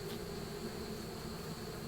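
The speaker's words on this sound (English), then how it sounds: "we've got bees, it looks to me like, depositing stuff into cells on this comb" Honey bees buzzing at an open horizontal hive during an April farm inspection, a soft, steady drone close by with no talking.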